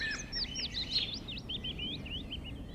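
A willow warbler sings in a wildlife garden: a rapid, sweet cascade of high, slurred notes falling in pitch. The song is clear but moderately distant over a soft background rumble.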